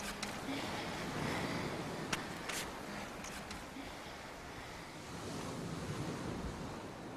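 Sea waves wash onto the shore under steady wind, a broad continuous roar with gusts buffeting the microphone, rising and easing gently throughout, and no voices.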